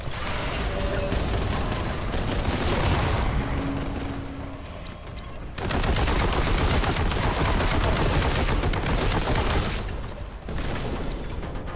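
Relentless bolt gun fire in the Warhammer 40,000: Boltgun shooter: dense, rapid, booming shots pour out almost without pause. There is a short lull near the middle, then the barrage comes back just as loud.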